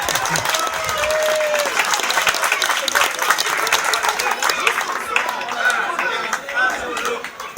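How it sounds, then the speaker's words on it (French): Dense, sustained applause from a crowd at a village kermesse in Crucey, continuous and fairly loud throughout, with background chatter mixed in. "On peut l'applaudir, c'est gagné"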